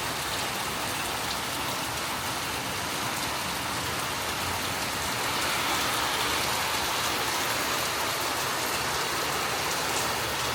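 Heavy rain pours down in a steady, dense roar that holds at a constant loudness throughout, with no voices over it.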